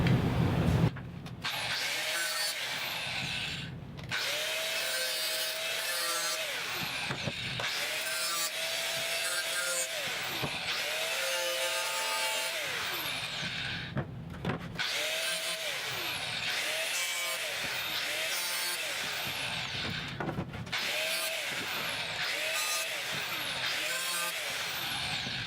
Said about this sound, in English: I'm just going to sort of cut them off with a metal wheel, bring them down flush